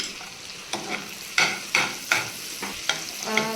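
Chopped garlic sautés in a pan for pasta, giving a soft frying hiss broken by several sharp scraping stirs of a spatula at irregular intervals, close and fairly quiet.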